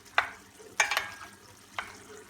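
Curry-sauce pasta stirred in a pan, heard as three short scraping, sizzly swishes spaced about a second apart, close and fairly quiet, with no talking.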